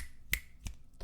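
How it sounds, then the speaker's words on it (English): Three crisp finger snaps close by, spaced roughly evenly over about a second, sharp and dry with nothing else around them. "I snap my fingers at them."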